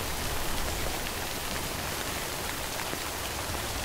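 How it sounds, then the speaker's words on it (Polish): Steady, dense rain pours in the Death Stranding video game, a continuous even hiss of drops on surfaces, loud and unbroken with no voices. "Ten deszcz to kurde niszczy nam w ogóle te skrzynki, one nam rdzewiają."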